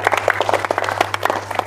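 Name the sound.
group applause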